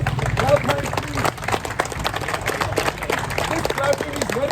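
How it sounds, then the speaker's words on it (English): At a Fit India beach cycling event, a crowd claps hands in a continuous, fairly loose patter with some scattered voices mixed in. "This clapping is very dull. Let it be strong."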